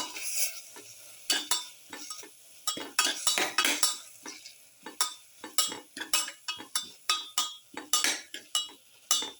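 A spoon stirs turmeric and spices into chicken in a pan, giving a steady run of sharp metallic scrapes and clinks over a faint sizzle, repeating in quick rhythmic strokes.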